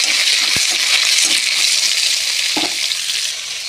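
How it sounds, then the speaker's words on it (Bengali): Ridge gourd stir-frying in a hot pan gives a loud, steady sizzle and hiss, with a couple of short clinks from the stirring utensil. "তারপর দিয়ে দেব ঝিঙ্গা কাটল বীজ ধুয়ে রেখেছি, কেটে দিয়ে দিলাম। দিয়ে নাড়াচাড়া করে দেবো বন্ধুরা।"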